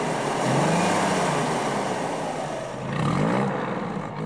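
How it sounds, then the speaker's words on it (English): Cast iron straight-six engine of a first-generation Corvette roars steadily at close range, with a broad continuous drone that swells twice as the revs rise and fall. "This huge straight-six engine made from cast iron would probably be better suited to powering a steamship."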